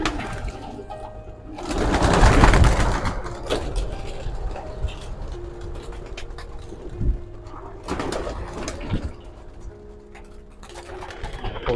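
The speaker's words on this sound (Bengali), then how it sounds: "কবুতরগুলো এখন বাহিরে আমরা ছাড়তেছি।" Racing pigeons coo outdoors in the early morning as they are let out to fly, soft repeated coos continuing throughout with a louder burst of fluttering activity near the start.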